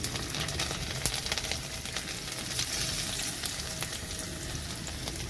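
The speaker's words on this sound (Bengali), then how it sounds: "ওই তেলের মধ্যে দিয়ে দিচ্ছি রসুন," Garlic dropped into hot oil left in a wok after frying fish sizzles and crackles steadily, loud and close, with occasional sharper pops and no talk over it.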